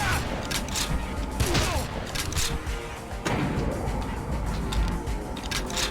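Shotgun fire in the video game Red Faction, with repeated loud blasts and mechanical clacks over a dense, noisy game soundscape, and a voice speaking faintly in the mix.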